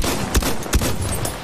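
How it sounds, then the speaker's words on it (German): Two sharp, loud gun bursts amid dense battlefield noise in Battlefield 1, consistent with machine gun fire, sounding close over a continuous roar of combat with no speech. "Maschinengewehr!"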